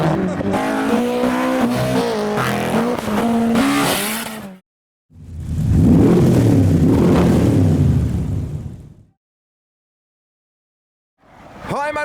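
Fast Ford cars arrive sideways at a Ford car show, engines revving hard with bursts of tire squeal, loud and close, with a short silent gap between two passes.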